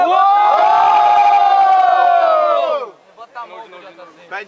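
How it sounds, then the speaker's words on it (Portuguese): Loud massed cheering and yelling from a crowd at a street rap battle semi-final holds for nearly three seconds, then breaks into lighter shouts and voices talking. "Quem gostou da rima do JC faz barulho,"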